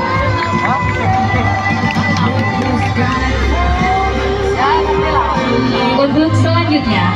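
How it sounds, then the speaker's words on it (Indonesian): Audience at a primary school environmental ambassador competition cheering and shouting loudly with whoops and yells, lively crowd noise filling the space and voices heard among it. "Beri tepukan yang meriah."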